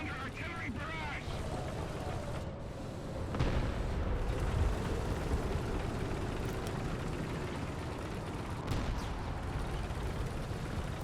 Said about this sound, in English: Our sector is under artillery barrage!